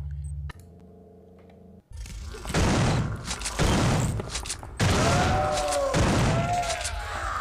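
Shotgun blasts in System Shock 2, a first-person sci-fi game: loud, broad bursts that start after a brief tonal game sound and continue in several heavy, repeated shots with reverberant tails.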